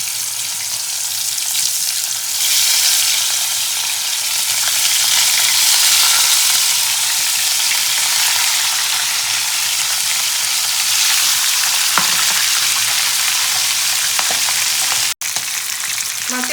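Loud, steady sizzling of parshe fish frying in hot oil, close up and continuous, with occasional clinks and a sharp click near the end; no talking.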